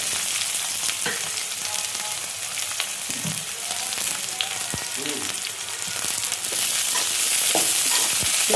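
Steady, loud sizzling and crackling of onions frying in hot oil, with occasional stirring scrapes and pops throughout.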